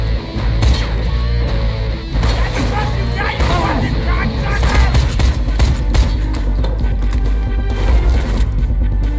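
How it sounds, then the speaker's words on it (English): Rapid gunfire bursts from the video game Wanted: Weapons of Fate, dense and loud through the whole stretch, layered with game music and crashes, with voices babbling underneath. "Guns"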